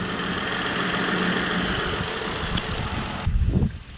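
A repaired car engine runs steadily after a fix, a close, even mid-pitched drone with slight roughness before it cuts lower near the end.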